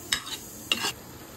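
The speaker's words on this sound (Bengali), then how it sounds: "কড়াইশুঁটিটা দিয়েও ভালোভাবে নাড়িয়ে নিচ্ছি।" Green peas being stirred into potato and pumpkin frying in a pan, heard as two short scraping strokes of the spoon against the pan over a soft background, close and fairly quiet.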